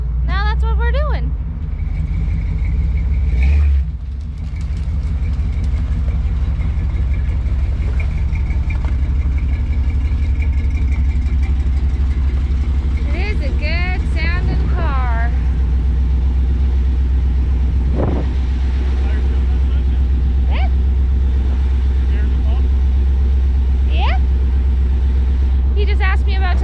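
A 1955 Chevy gasser's engine drones loud and steady with a deep, constant rumble while the car drives, and a voice talks briefly over it now and then.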